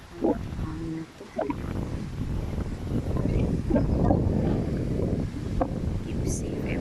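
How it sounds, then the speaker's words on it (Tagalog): Strong outdoor wind gusts roar and buffet the microphone in a low, uneven rumble that swells and eases, with a few faint bird chirps and brief bumps. "Nakakatakot ng hangin na to."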